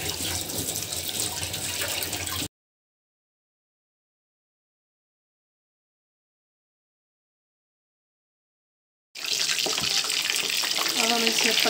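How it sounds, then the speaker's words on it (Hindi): Food sizzles steadily in hot oil in a pan over a full flame, a dense crackling hiss that stops abruptly, falls silent for several seconds, then resumes just as loud. "अब इसे हम 3-4 मिनट इसको फ्राई होने देंगे"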